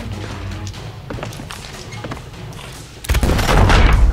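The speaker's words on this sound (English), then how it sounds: "I kind of just blew up myself by accident." An explosion in Sea of Thieves bursts in loud and close with a deep booming rumble that keeps churning to the end, after scattered thumps and taps of game action.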